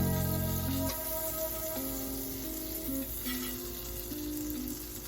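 Strawberry Nutella rolls frying in an overheated pot give a steady, loud sizzle with a crackling hiss throughout, while a tonal hum wavers underneath; no one speaks.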